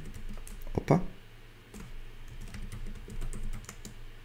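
Typing on a computer keyboard: a short run of soft, close key clicks with one sharper tap early on, over quiet room tone.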